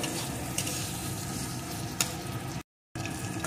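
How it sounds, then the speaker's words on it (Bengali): Potato pieces fry with shrimp in a pan for a bitter gourd dish, giving a dense, even sizzle with occasional sharp spatula knocks and a brief dropout near the end. No speech. "আলুর টুকরোগুলোকেও একটু ভেজে নেব।"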